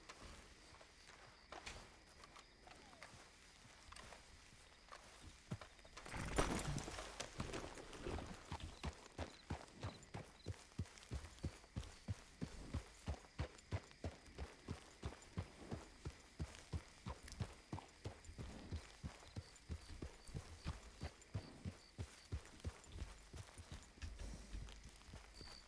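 Horse hooves clip-clopping in Red Dead Redemption 2, a steady walking rhythm of many close, clear hoofbeats that starts after a few quiet seconds, with a louder burst early on and faint background ambience.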